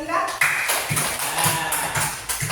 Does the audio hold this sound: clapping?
yes